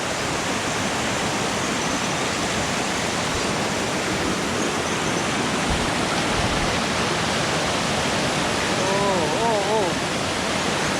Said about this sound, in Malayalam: ഇതോ കാണുന്നതാണ് വെള്ളച്ചാട്ടം നമ്മളെ